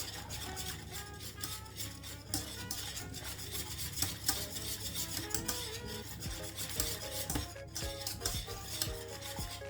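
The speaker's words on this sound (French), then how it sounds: "quand il y a une petite ébullition, on va terminer de mélanger" A spoon scrapes and swishes repeatedly through a thick white sauce bubbling at a gentle boil in a pot, a steady rhythmic stirring close by with faint sizzling underneath.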